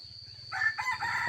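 A free-range rooster crows close by, one clear cock-a-doodle-doo lasting about a second over low clucking from other chickens.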